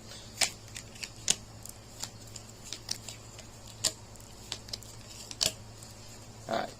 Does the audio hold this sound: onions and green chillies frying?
no